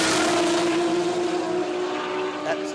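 Holden Calais drag racing car engine at an Australian sports compact drag racing event, a loud sustained engine drone with steady harmonic tones that eases slightly toward the end, with a commentator's voice faintly mixed in.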